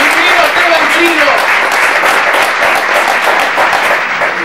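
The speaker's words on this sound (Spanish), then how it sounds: "Y por eso vamos a abrirlo con un fuerte aplauso al señor Esteban Alderete" An audience breaks into strong, dense applause to welcome a guest on a television program, loud and continuous, with a brief voice at the start under the clapping.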